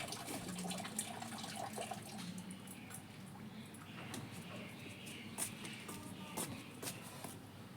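Water pours and splashes softly onto potted plants in a rooftop garden, a faint continuous trickle with small irregular splatters.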